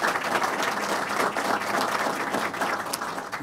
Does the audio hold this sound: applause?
yes